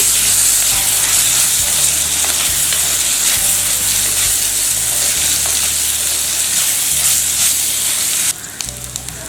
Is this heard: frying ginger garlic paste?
yes